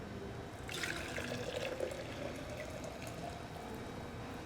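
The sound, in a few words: pouring steeped tea into a jar for kombucha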